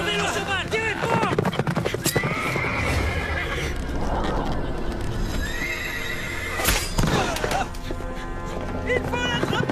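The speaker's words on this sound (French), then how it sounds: "Il faut faire tourner le cheval! Tirez fort!" A horse whinnies loudly several times while its hooves clatter and voices shout urgently over the commotion, with sharp cracks and bangs scattered through a tense chase scene.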